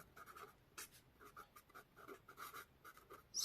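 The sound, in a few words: writing an equation on a board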